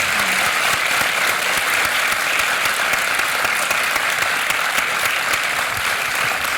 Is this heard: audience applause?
yes